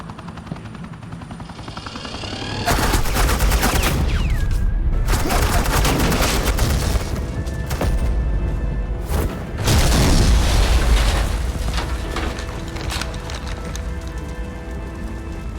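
Suppressing gunfire in Batman: The Enemy Within, a long, loud and dense barrage of automatic fire with booming impacts, briefly dropping out partway, then tapering off at the end.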